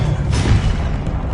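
A Confringo spell blast from the video game Hogwarts Legacy booms out once, a loud, short low burst over a steady rumbling game soundscape.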